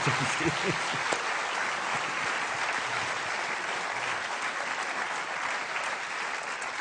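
An audience at a conference Q&A session breaks into applause, a broad, steady wash of many hands clapping at moderate distance, holding level throughout with a brief voice near the start.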